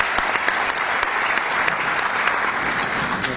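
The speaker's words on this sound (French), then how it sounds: "S'il vous plaît, on applaudit Sirazeli. Très très fort." A conference audience at a nation-branding event in Morocco breaks into loud, sustained applause, a dense and steady roar of clapping with a few sharper claps standing out near the front.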